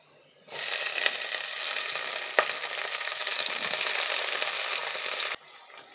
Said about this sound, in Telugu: ఇప్పుడు మెంతి కూరలోకి కొద్దిగా సాల్ట్ యాడ్ చేసుకొని ఒకసారి గరిటెతో కలుపుకొని ఫ్రై చేసుకోవాలి.